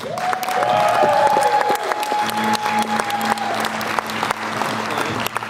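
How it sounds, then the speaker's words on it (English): A school audience applauds at a winter carnival assembly, loud clapping that swells early and then thins into scattered claps while a sustained tone hums underneath. "Can we give Miss English a round of applause?"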